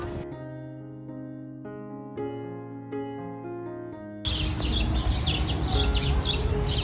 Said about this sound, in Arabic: سامعين صوت العصافير؟